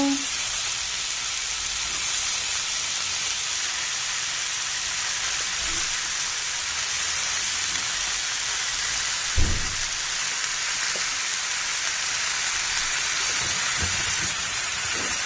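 Chicken pieces hiss and sizzle steadily in a hot pan with vegetables for a chicken stew, a close, continuous frying noise with a few faint clinks.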